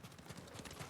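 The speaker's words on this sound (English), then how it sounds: "Call our horse. Come here, horse." Horse hooves clip-clopping at a quick trot across ground as the mount comes when called in Ghost of Tsushima, steady rhythmic beats, fairly close and clear.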